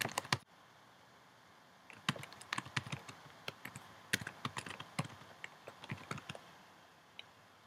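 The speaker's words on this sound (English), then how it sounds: "type in my Apple ID." Quiet clicking of a computer keyboard as an Apple ID is typed, a burst of irregular key taps after a brief pause, close and soft with no talk.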